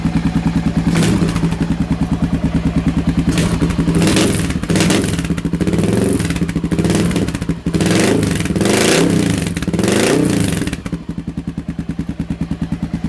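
Motorcycle fitted with a DG O-Series exhaust, close and loud, idling with a steady chugging throb, then blipped through a series of sharp throttle revs that rise and fall before settling back to idle.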